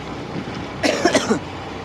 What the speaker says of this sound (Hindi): खांसी भी हो रही है यार